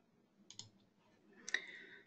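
Two pairs of quick, faint mouse clicks sound close by in a quiet room as a Stata do file is run.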